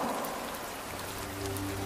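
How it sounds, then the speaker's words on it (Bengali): Heavy rain pours down steadily as a cartoon sound effect, a dense continuous hiss of drops with no pauses, alone and fairly faint. "বৃষ্টির বেগটা হঠাৎ খুব বেড়ে গেল।"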